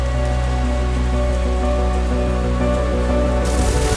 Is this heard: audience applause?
no